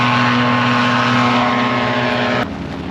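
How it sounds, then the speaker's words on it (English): Custom-built Chinook STOL airplane flying at a STOL competition in Gainesville, Texas: a loud, steady propeller-engine drone close by that cuts down sharply near the end. "Dan Reynolds is out here in his custom built Chinook"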